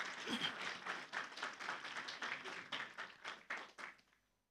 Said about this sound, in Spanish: Un fuerte aplauso más para el grupo Canto Esperanza.